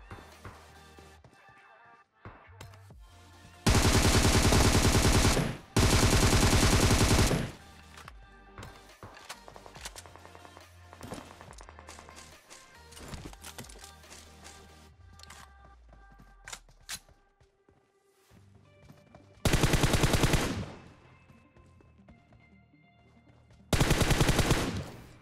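Loud sustained automatic gunfire in PUBG Mobile, several long bursts separated by quieter stretches of scattered shots and game ambience.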